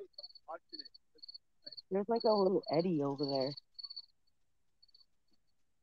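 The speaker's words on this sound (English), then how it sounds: "Is that crickets where you guys are?" Crickets chirp at night beside water on a midnight fishing trip, a faint high steady trill in repeated bursts running under a person talking.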